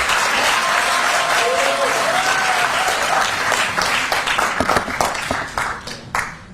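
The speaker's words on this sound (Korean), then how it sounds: "큰 박수 부탁드립니다." Crowd applause at a Democratic Party Seoul campaign committee launch ceremony: loud, sustained clapping from a large audience that thins into scattered claps and tapers off toward the end.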